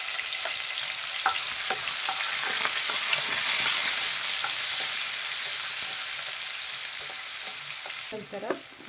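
Onion and garlic fry in oil with cumin, giving a steady, close sizzle with light stirring taps and scrapes of a spoon in the pan, no talking.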